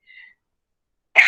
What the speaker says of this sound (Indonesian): Ibu jadi batuk nih.